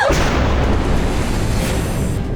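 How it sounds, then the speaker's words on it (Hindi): A single loud, booming gunshot fills the clip, its blast ringing out and decaying over a couple of seconds. "गोली चला दी?"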